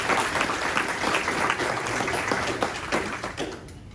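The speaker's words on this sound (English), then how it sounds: "If everyone would just give him a little round of applause." A general meeting audience applauds a surprise visitor, the mayor, with a dense, steady wash of many hands clapping at moderate distance that thins and fades over the final half second.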